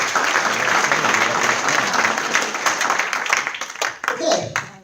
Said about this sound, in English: Give our presenters a round of applause.